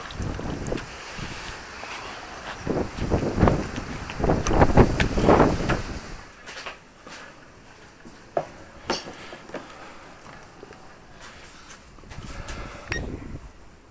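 A fast electric RC outboard boat skims over water in windy conditions, with bursts of buzzing motor and splashing in the first half before fading to gusty wind noise and scattered slaps of water.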